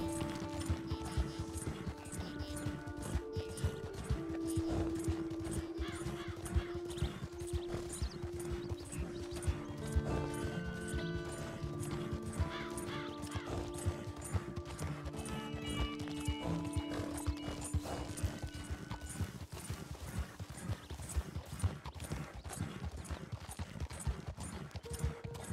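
Horse hooves in Red Dead Online clopping steadily and evenly at a walking pace, fairly quiet, with a low rumbling background and occasional tonal game sounds but no talking.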